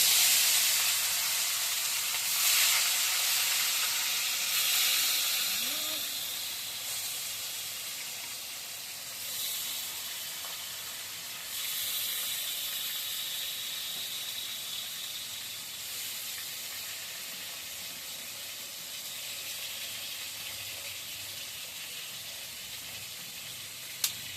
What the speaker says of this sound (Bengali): তেলটা গরম হয়ে গেছে, এবার মাছটা ছেড়ে দিচ্ছি।